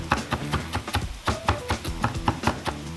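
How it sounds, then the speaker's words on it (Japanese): A kitchen knife chops ingredients for a spicy Chinese-style ground pork and tofu stir fry, striking the cutting board in a steady, brisk rhythm of crisp close taps, with no talking. "でまたこの2つを合わせてさらに刻んでいきます。"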